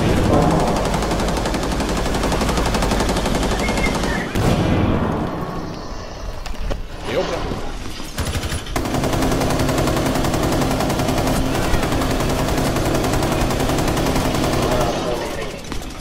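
Tachanka's mounted LMG in Rainbow Six Siege hammers out long, dense bursts of rapid fire with a short pause midway, loud and close, while players talk over it.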